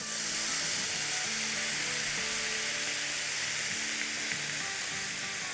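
Gola kebabs with lemon juice fry in a hot pan, giving a dense, steady sizzle close up that stays even throughout, with soft music underneath.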